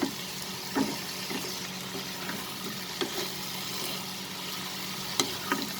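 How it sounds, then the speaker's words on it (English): Spinach and potatoes for aloo palak frying in a pan over a high flame, a steady sizzle with occasional soft clinks and stirring scrapes throughout, close and unaccompanied by talk. "Fry this over high flame."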